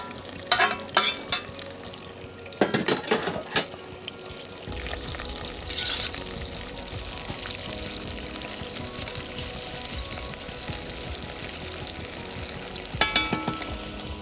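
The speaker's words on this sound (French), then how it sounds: "On va venir griller les têtes, chercher du sucre, de la caramélisation" Shrimp heads fry in hot oil in a cast iron pot, giving a continuous dense crackle and sizzle, with bursts of louder spattering and stirring clatter near the start and again toward the end.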